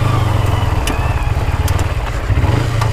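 A Kawasaki Ninja 250 engine in a dirt-bike build runs out in the desert, a close, loud and steady low engine drone with a slight rhythmic pulse and no talk.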